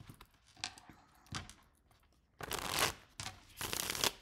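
A Sassy Dragons tarot deck is shuffled up close in several quick papery bursts, with short pauses between them and the last two bursts loudest, with no speech.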